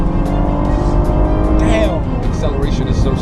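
A Cadillac ATS-V or CTS-V sports sedan accelerates hard, its engine roaring loud and steady with a rising whine and a brief tire chirp, while people talk over it inside the car.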